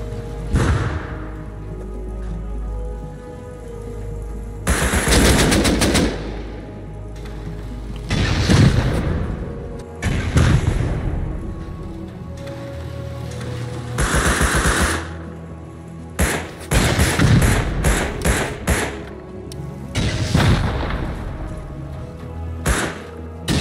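Bursts of automatic gunfire in Rust, a survival video game, come in several loud rattling volleys separated by quieter gaps, with thudding booms mixed among the rapid shots.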